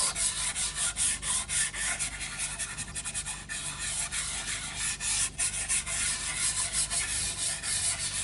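A white Derwent pastel pencil rubbed over a drawing, giving a steady dry scratchy scrubbing made of quick repeated strokes, close and continuous with no talk.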